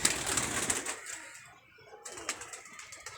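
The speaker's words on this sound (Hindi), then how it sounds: "ये देखें ये कबूतर इन्होंने छोड़े हुए हैं।" Pigeons calling near and far at a pigeon club against a busy outdoor background, with a brief lull midway before the chirping and cooing picks up again.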